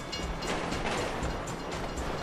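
Train passing in Grand Theft Auto V, a fairly faint rumbling rail rush with light rhythmic clatter lasting a couple of seconds, with no talk over it.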